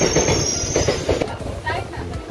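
A train pulls into a station on a rail journey from Siliguri, with loud, sustained metallic wheel squeal over rolling clatter, close and steady throughout.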